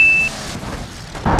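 A BMW car in a jumping stunt, a short burst of vehicle noise with engine and rolling sounds, ending in a louder thump at the close.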